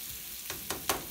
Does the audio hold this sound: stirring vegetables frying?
yes